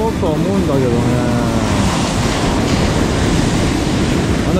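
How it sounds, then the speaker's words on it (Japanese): Surf pounds continuously on a beach near Sendai during early-morning flatfish angling, a loud, dense wash of breaking waves mixed with wind buffeting the microphone throughout, with a voice briefly audible at the start. "あの急に波が強くなってきたの気がするんだけど気のせいかこれ。"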